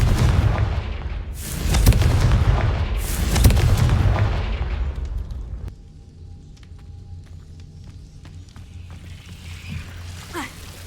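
The Confringo blasting spell explodes in the video game Hogwarts Legacy: two loud booming blasts roll out close together, followed by a quieter stretch of low rumble and faint magical tones.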